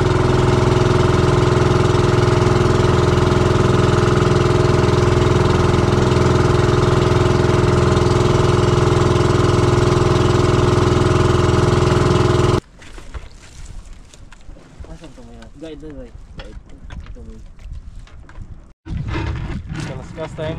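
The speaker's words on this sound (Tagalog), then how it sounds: "Okay na yung makina ni Chokoy." A fishing boat's engine runs steadily and loudly at close range for about twelve seconds, then cuts off abruptly, leaving quieter outdoor sounds with people talking.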